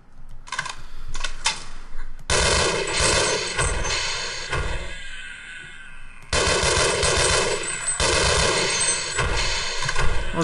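Rapid automatic gunfire rattles in the classic Half-Life shooter, set in the sewers, in loud continuous bursts with a brief lull before the shooting resumes. No voices.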